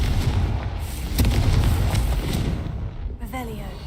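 A Confringo explosion spell in the video game Hogwarts Legacy lands as a deep, rumbling blast that swells and then fades, followed by a short tonal magical shimmer, with voice activity present.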